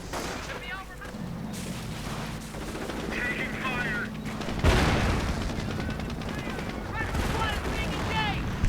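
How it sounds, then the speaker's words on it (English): Dense, continuous gunfire in a Company of Heroes video game match with booming bursts and rattling machine-gun fire, loud and chaotic, with a voice talking over the battle noise. "Lots of machine gun fire, lots of gunfire."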